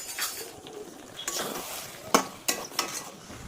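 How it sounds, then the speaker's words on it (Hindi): A spoon stirring potato and pointed gourd curry in a pan over a soft sizzle, with scraping sweeps and a few sharp clinks of the utensil against the metal. "बारंबार घाटिबा ना कड़े लगे"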